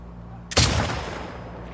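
A single loud gunshot in the video game The Last of Us Part II, a sharp blast followed by a long decaying echo.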